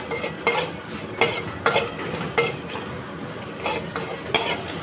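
Cumin, fenugreek and coriander seeds dry roast in a pan, a spoon or spatula stirring them with repeated scraping clinks against the metal at an uneven rhythm, close and fairly quiet, with no talking.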